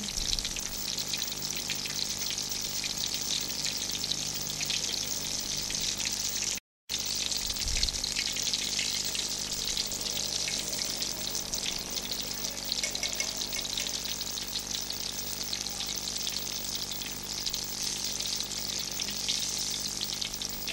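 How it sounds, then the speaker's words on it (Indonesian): Milkfish coated in fried chicken batter fries in hot oil, giving a steady, dense sizzle and crackle throughout, broken once by a brief gap. "Kita goreng dia sampai warnanya golden brown ya, sampai dia warnanya kuning kecoklatan."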